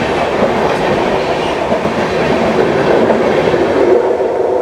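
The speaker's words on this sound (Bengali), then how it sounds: "বর্ধমান থেকে ট্রেন আমাদের ছেড়ে দিল।" The 13021 Mithila Express pulls out of Bardhaman station in India, with a loud, continuous rumble of rolling coaches and rhythmic clickety-clack of the wheels heard from on board.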